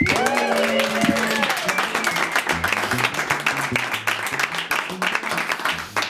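A live audience applauds to welcome a band at a radio lounge session, loud, dense clapping that fills the whole stretch, with an announcer's voice trailing off at the start.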